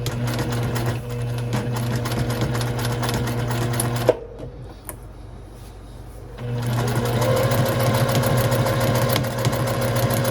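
A sewing machine stitches a long seam across a fabric strap, running at a steady, close, mechanical hum. It stops briefly in the middle, then starts again and keeps sewing.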